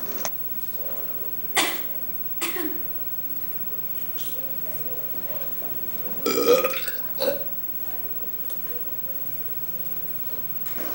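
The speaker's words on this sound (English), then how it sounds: "feel free to break the silence with an occasional hack or belch" Several loud burps and a throaty hack break up a quiet room, scattered across the stretch with long pauses between them.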